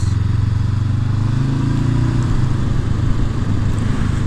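A Honda CB500F motorcycle on a ride, its engine droning steadily and loud up close with a continuous low rumble throughout, without any talk.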